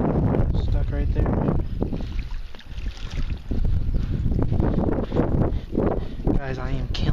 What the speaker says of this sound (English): Not sure if you can hear me with this wind.